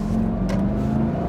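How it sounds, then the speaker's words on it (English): A Porsche Panamera drives past with a steady engine rumble and road roar. The sound holds at an even, loud level, close by, with no talk. "It's like a Porsche wagon going on there."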